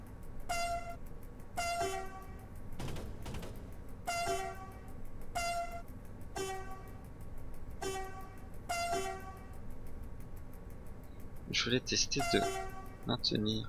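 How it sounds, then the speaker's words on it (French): A train horn in a train simulator video game sounds in a quick series of short, loud two-tone blasts at an uneven rhythm while someone talks over them. "Alors je vais tester un truc, l'avertisseur."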